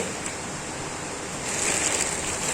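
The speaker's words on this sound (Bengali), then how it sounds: "দেখো এবার ঢালছে।" Water pours in a steady, broad rush that grows a little louder partway through, with no talking over it.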